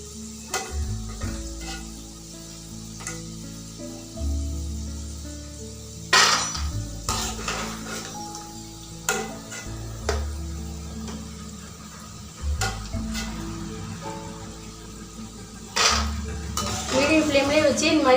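Masala peanuts fry in hot oil over a medium flame, a continuous crackling sizzle broken by repeated metal clinks and scrapes of a ladle against the pan, with occasional speech nearby.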